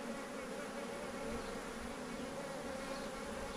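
A swarm of honey bees clustered around their queen, docile and without brood, buzzing in a steady, dense drone that stays constant and close throughout, with no voices.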